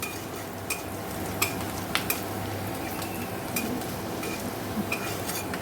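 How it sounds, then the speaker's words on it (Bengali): Onions fry in a pan: a quiet, steady sizzle carries on throughout, broken by a few light clinks of a utensil against the pan. "এখানে দেখো পেঁয়াজ ভাজা হচ্ছে"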